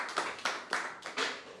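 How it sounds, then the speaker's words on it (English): Sparse clapping from a small audience at a crypto event in New York, a few distinct claps in a loose rhythm, fairly quiet and close, with no other sound. "So please give Michael a round of applause"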